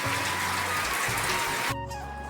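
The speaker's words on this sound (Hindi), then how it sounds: "तो दोस्तों अभी बहुत बारिश हो रही है" Steady dense hiss of heavy rain pouring down, with a low rumble underneath, then the rain abruptly drops out near the end.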